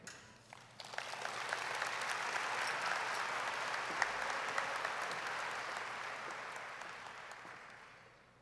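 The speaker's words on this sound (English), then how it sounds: "Let's give those two individuals another round of applause for their academic achievement." Graduation audience at a senior high school ceremony breaks into sustained applause, swelling quickly to a broad, steady wash of clapping that fades slightly toward the end, with no speech over it.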